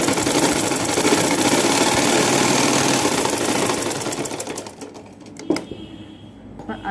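Sewing machine double stitching baby frock fabric, a steady close mechanical whir and needle clatter that runs for several seconds, then slows and stops, leaving a few light clicks and handling sounds.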